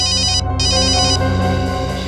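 A telephone rings loudly in a police office on a Hindi crime drama, a steady electronic ringtone pattern repeating with a brief gap, with no talk over it.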